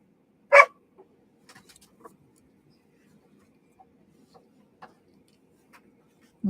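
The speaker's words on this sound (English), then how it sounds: "We got us a mouthy dog here. He wants to play. He wants attention." A mouthy dog wanting attention and play gives one loud, sharp bark up close, followed by scattered faint ticks and clicks in a quiet room, then another loud bark starts right at the end.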